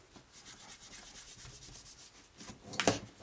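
A cloth gives a smartwatch screen a good wipe before a liquid screen protector goes on. The close rubbing strokes are soft and steady, ending in a slightly louder scuff.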